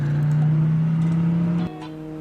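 Rickety old motorbike engine droning steadily at a low pitch, close and fairly loud, then dropping abruptly in tone and level near the end as if easing off.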